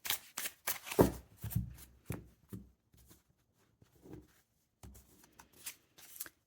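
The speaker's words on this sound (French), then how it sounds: "On va prendre une carte du tarot pour votre énergie perso de ce jour." Tarot deck shuffled by hand: close, crisp riffling and flicking of cards in several quick bursts, then softer, sparser rustles and taps, with no speech.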